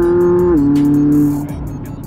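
A group of cars drives along a road, a loud steady engine drone with a pitch that drops once, then eases off as the vehicles carry on.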